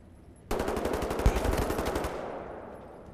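Automatic gunfire in the video game Wolfenstein The New Order, a loud, fast rattling burst lasting about a second and a half, fading out with a short echoing tail.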